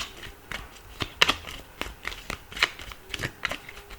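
Tarot cards shuffled by hand for a reading: a close, continuous flurry of papery riffles and taps in a busy, uneven rhythm, with no talk.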